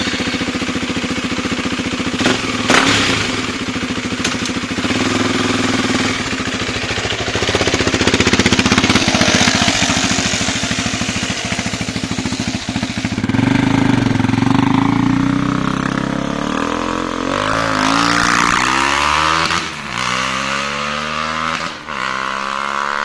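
A motorcycle engine with its catalytic converter and resonator removed runs loud and steady, its rough mid-range rumble holding through the clip, then rising and falling through several revs near the end, with no talk.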